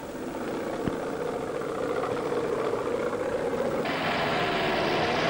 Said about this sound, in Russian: Он приводится в действие от двигателя через вал отбора мощности